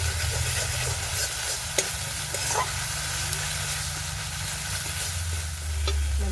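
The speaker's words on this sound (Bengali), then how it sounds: "মশলাটা ভালো করে কষিয়ে নেব" A spice paste fries in a pan, with a constant close sizzle and hiss, scraping as it is stirred, and a low hum running underneath throughout.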